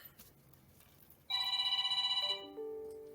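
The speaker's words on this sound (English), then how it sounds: "oh, this is my husband's phone." A mobile phone goes off at an evening talk event with a bright, pulsing electronic ringtone that steps down into lower melodic tones before fading, heard alone against quiet room noise.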